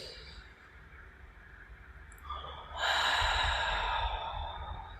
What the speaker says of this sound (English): So breathing in for 4.